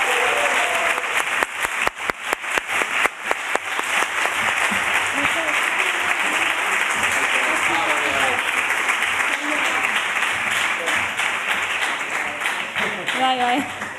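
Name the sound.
audience applause for prize-winning filmmakers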